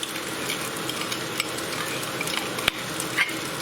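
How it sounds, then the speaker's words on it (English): Chili beef sauce ingredients, including sugar, are mixed together for crispy chili beef. A steady, soft scraping and swishing of stirring runs throughout with a few light clinks, and no one speaks. "mix it all together"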